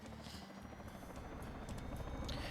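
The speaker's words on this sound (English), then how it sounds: "We do hear a helicopter spooling up, though." Helicopter spooling up in a military multiplayer shooter game, a faint, steady rotor whine and buzz that gradually swells in volume over a couple of seconds.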